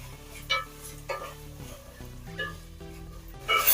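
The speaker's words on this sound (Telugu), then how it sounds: "ఇది ఇలా వేగుతుంది కదండి" Masala for crab biryani fries in a pan under a soft, low sizzle, broken by intermittent stirring scrapes and clinks of a spoon against the pan, fairly quiet with no voices.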